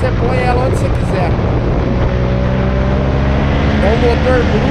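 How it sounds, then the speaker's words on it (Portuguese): A Yamaha MT-07 motorcycle engine drones continuously during a ride, a steady rumble blended with heavy wind rush and road noise. "É um motor bruto, mas que não te assusta."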